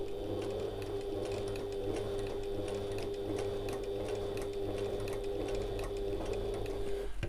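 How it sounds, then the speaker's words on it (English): A sewing machine runs steadily while stitching an evening bag, a continuous close mechanical whir with a rapid needle rhythm and faint periodic ticks, held at an even level throughout without talk. "so I'm going to take one more stitch and then pivot."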